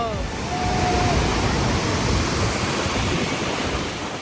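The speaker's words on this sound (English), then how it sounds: "It's actually one of the largest waterfalls in the world." Iguazu Falls on the Brazil side roaring at close range, a loud, dense, unbroken rush of falling water with wind buffeting the microphone.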